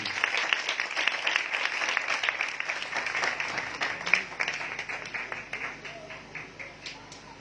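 A church congregation applauds to welcome evangelist Sister Elva Parvez to the front, a sustained patter of many hands that gradually tapers off, with a voice speaking over it.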